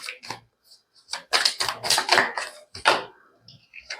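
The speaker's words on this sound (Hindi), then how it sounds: "दोबारा शफल करते हैं।" Tarot cards are shuffled up close in quick papery riffles and slaps, several bursts bunched together with short pauses between them.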